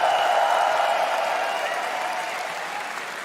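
An esports arena crowd at a Dota 2 ESL One Berlin Major 2023 match applauding and cheering for Roger of 9Pandas, a loud sustained wall of clapping and cheers that slowly fades over the seconds.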